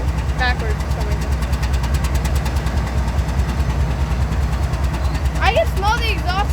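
A diesel locomotive idles in FEC's Bowden Yard in Jacksonville, a steady low rumble with a throbbing engine pulse that runs the whole time, nearby and fairly loud, while brief voices come through.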